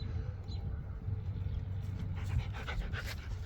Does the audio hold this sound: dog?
yes